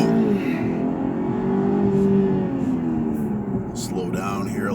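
A 2020 BMW 530 all-wheel-drive sedan launches hard on a small-town frontage road, its engine droning and rising in pitch as it accelerates, heard from inside the cabin with steady road and wind noise underneath.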